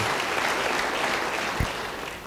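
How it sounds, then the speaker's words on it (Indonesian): A church congregation claps in continuous, dense applause for the whole short stretch, with a single low thump near the end. "Yang percaya, beri tepuk tangan yang baik bagi dia."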